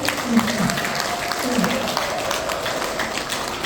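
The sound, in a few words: audience applause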